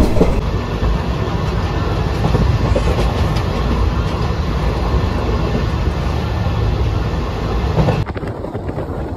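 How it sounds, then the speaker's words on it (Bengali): Dhanadhanya Express train running at full speed, about 110 km/h, heard from inside the carriage as a loud, steady rumble with rattling wheel clatter throughout. "আর ট্রেন এখন পুরো ফুল স্পিডে, মানে পুরো 110-এ চলছে।"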